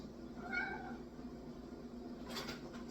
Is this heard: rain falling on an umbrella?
no